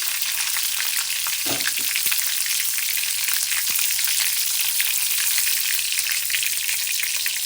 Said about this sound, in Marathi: त्यात जाईल अर्धा चमच जिरा एक हिरवी मिरची